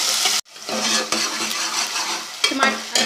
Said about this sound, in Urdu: اب ہم اس میں ٹماٹر شامل کر دیں گے. تھوڑا سا فرائی کریں گے،